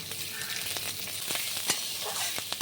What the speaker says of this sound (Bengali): দুটো মাঝারি সাইজের পেঁয়াজ কুচি তেলে দিয়ে দিচ্ছি